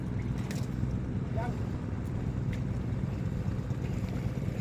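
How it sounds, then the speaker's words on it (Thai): A low, steady engine drone of a long-tail passenger boat passing on the Pattani River at night, with broadband wind and water rush throughout. "ระหว่างนี้มีเรือหางยาวโดยสารผ่านมาพอดีครับ"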